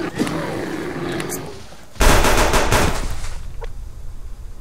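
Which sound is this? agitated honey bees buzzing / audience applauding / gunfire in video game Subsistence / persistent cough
gunfire in video game Subsistence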